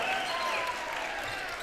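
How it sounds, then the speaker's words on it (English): A basketball crowd at a high school game cheers and applauds after a made three-pointer. It is a dense, steady roar of clapping and shouting that stays loud and unbroken throughout. "And the crowd goes wild."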